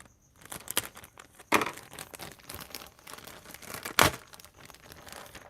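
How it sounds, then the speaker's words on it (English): A hobby knife slices open a small plastic bag, making irregular close crinkles and rustles with two sharper crackling bursts, quiet overall. "Let me get the hobby knife. Cut this little bag."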